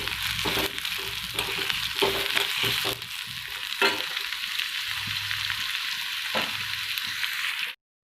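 Chicken frying in masala in a pan: a dense, continuous sizzle close by, with scrapes and knocks of a stirring spoon throughout, until it cuts off abruptly at the end; no voices.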